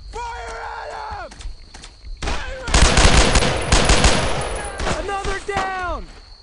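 Heavy gunfire in the World War II shooter Brothers in Arms: Road to Hill 30, with rapid machine-gun bursts and loud shots, shouted voices and footsteps mixed in, the bursts peaking in the middle.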